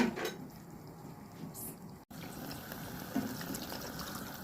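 Water runs into a spoon during home cooking, a soft continuous trickle with a brief dropout in the middle, heard close and fairly quiet.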